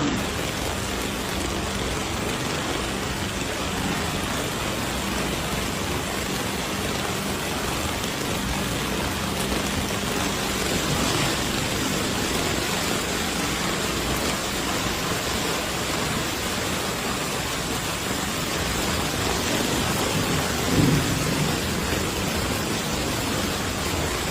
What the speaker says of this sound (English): Ungodly amounts of water, rain, inches by the seconds